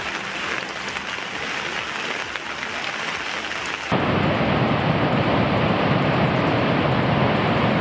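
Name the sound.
heavy rain with thunder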